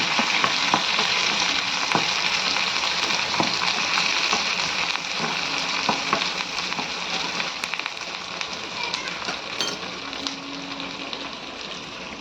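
Chicken curry sizzles steadily in the pan with curry leaves, a dense, continuous frying crackle that stays close and loud throughout with no talk.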